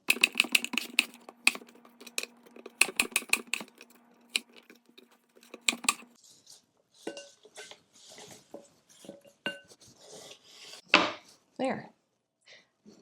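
A knife slices apples for apple crisp, producing quick rhythmic chopping taps against a board, then slower, sparser cuts and clinks, close and crisp.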